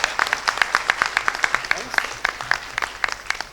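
Crisp, fairly sparse clapping from a conference audience at an HR keynote, individual claps distinct and rhythmic, moderately close and continuing for a few seconds without talk.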